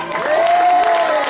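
Brief burst of audience applause and crowd noise at a live classic rock and blues concert by an older band, steady clapping filling the room for about a second with a faint cheer.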